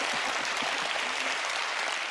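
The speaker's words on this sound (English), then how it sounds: "This applause is for you." A studio audience at the Penn & Teller: Fool Us magic show applauds, a dense, even wash of clapping that holds steady from start to finish.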